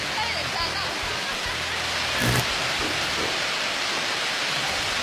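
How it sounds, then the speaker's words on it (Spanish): Heavy afternoon rain pours down in Chiclayo, Peru, a dense, steady wash of hiss and roar that fills the scene, with a brief louder surge midway. "la fuerte lluvia que azotó en la banda de Chiclayo esta tarde"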